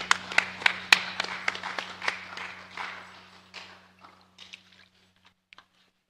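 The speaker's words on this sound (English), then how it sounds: "Round of applause for the Lord." A church congregation claps during a worship service: a round of sharp, scattered handclaps that starts brisk and loud, then thins and fades into a few isolated claps over a low steady hum.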